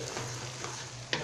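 Rice with vegetables sizzles steadily in a frying pan while a utensil stirs through it, with a brief scrape near the end and no talk.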